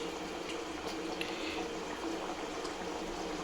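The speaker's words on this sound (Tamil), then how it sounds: "நல்லா கொதிச்சு நல்லா சுண்டியே இருக்குது" Spicy tamarind kara kuzhambu simmers and bubbles in a pan, a steady close, dense bubbling hiss with small pops throughout, no voices.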